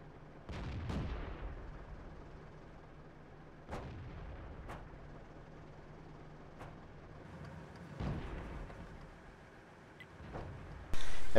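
Artillery guns fire in a World of Tanks match on the Malinovka map: several heavy, distant booms at irregular intervals, each rolling out over a steady low engine rumble.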